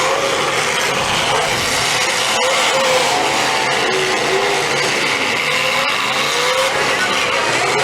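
A race car engine screams past on the track at Maple City Madness, a loud, continuous high-revving roar with shifting pitch and no pause.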